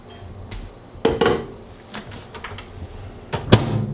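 A few sharp clicks and clunks, like a microwave door being opened and shut, with a louder knock near the end and quiet room tone between.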